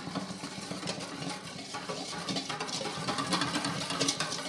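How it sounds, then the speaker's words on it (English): Egg and Caesar salad dressing ingredients whisked in a bowl, a steady close scraping and sloshing that keeps going throughout with no talking. "Whisk it together."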